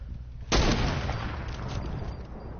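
A single loud gunshot blast in a video game, a sharp crack followed by a rumbling noisy tail and ongoing background battle noise.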